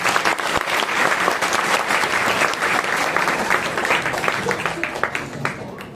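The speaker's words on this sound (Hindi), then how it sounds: "ऐसी तालियां बजाओ कि सबको प्रेरणा मिले" Audience at an Arya Samaj annual function in Noida applauding, a loud, full round of clapping that carries on for several seconds and tapers slightly toward the end, with a voice faintly underneath.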